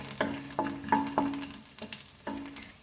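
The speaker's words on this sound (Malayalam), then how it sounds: "ഇനി ഇതൊന്ന് ചെറിയ ബ്രൗൺ കളർ ആവുകയോളം ഫ്രൈ ചെയ്തെടുക്കാം." Garlic cloves frying in a pan for spinach soup, heard as a steady low sizzle with a handful of sharp clicks and scrapes from a utensil knocking against the pan, close and moderately loud with no talking.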